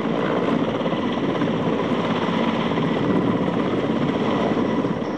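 A Mi-17 military helicopter armed with rocket pods, flying in the 1999 Indian Air Force operations, gives off a steady, loud rotor and engine roar with a fine rapid chop that holds evenly for about five seconds, without voices.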